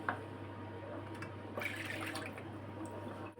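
Milk pours steadily into a pot for a few seconds, a soft continuous splashing and trickling with no talk.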